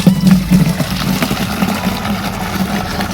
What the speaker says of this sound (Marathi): पाचचा ठोका टाकायचा आणि दाबायचं लगेच इकडं पाणी येते